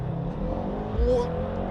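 A Mercedes-AMG GT 63 S 4MATIC+ accelerates hard in a steady, full engine roar heard from inside the cabin, with a rising whine near the end and a voice talking over it.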